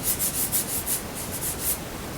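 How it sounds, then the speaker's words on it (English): A painted surface is hand-sanded with fine 600 to 1,000 grit paper in quick back-and-forth strokes, about ten rhythmic scratchy rasps close by with no voices. "But once you start sanding it"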